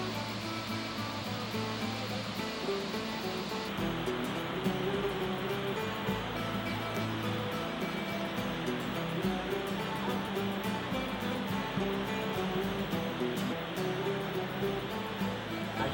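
River water pouring over a dam on the Blackstone River, a constant broadband roar of rushing water, steady and fairly close, with no voices.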